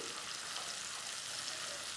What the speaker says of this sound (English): put some of the locust beans in the oil just to fry up slightly